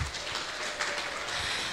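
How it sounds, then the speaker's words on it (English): Audience at an international education conference hosted by an Islamic institute's Faculty of Tarbiyah applauding, a continuous wash of clapping with a few brief swells and no talk. "Let's give applause."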